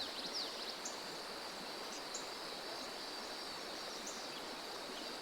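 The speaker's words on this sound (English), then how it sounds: "relaxing as you listen to the sound generated by the waves of the river." Steady broadband rush of flowing river water, continuous and fairly close, with faint high insect or bird chirps scattered above it.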